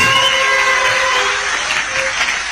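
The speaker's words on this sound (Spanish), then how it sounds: "Un aplauso, Señor." Audience applause in a church gathering, a steady wash of clapping that carries on continuously throughout.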